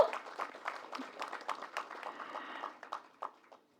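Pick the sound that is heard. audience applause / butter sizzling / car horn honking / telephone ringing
audience applause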